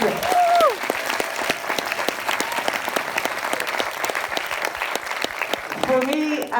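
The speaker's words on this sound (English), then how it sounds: "Please give them a round of applause." An audience applauds at the world premiere gala screening of the film Nightride at Lighthouse Cinema in Dublin. The clapping is loud and sustained, with a voice briefly heard near the start and end.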